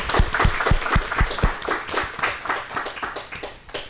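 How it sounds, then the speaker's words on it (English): A crowd applauding at a live community event on stage, with sharp, distinct claps at first that blend into steady, moderately loud clapping for a few seconds. "round of applause for Randall."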